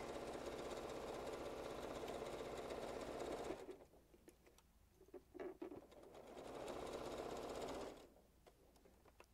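Sewing machine stitching the corner of a reversible napkin, running in fast mechanical bursts with a rapid needle rhythm, pausing briefly for a few clicks and handling noises before starting up again.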